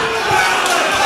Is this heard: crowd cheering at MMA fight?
yes